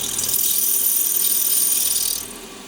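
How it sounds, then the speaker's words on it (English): A 6mm drill bores through a metal workpiece on a milling setup, giving a steady high whining cut that drops away near the end as the bit breaks through. "So that's the 6mm drill through."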